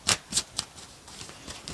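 Large topic cards are shuffled by hand close up, making a few crisp riffling swishes followed by softer, quicker flutters, with no talk.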